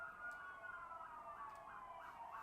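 An emergency siren passes outside, faint and distant, its wailing tone rising and falling steadily for the whole stretch under low background noise.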